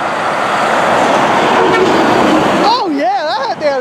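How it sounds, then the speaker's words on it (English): Loud, steady roadway roar gives way to a strong, wavering train horn blast from a passing truck that bends up and down in pitch. "that had a train horn on, I think. Pretty horn."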